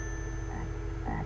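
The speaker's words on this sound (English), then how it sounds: "It's a frog." A frog croaks twice, briefly and faintly, over a steady background hum, with the second croak slightly louder near the end.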